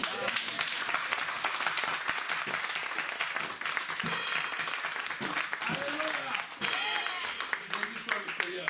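A church congregation bursts into applause and cheering, a dense steady wash of many hands clapping throughout, with voices calling out loudly within the crowd.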